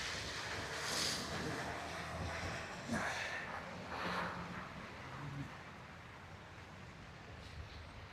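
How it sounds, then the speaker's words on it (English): Wind during a city snowfall in Toronto rushes and buffets loudly against the microphone in gusts, stronger at first and then easing toward a lower steady roar. "It is the wind that gets you"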